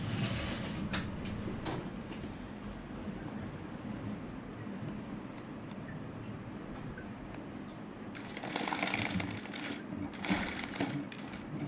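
A sewing machine stitches a cutwork blouse, running in a steady mechanical whir with brief clicking stops and louder bursts near the end, heard up close with no talking.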